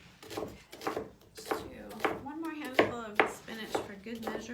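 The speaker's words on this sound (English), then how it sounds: "measure as Gianni finishes cutting up the onions" Knife chopping onions on a cutting board in a kitchen preparing Greek food, heard as rhythmic chops with people talking over them throughout.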